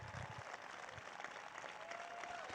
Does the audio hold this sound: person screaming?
no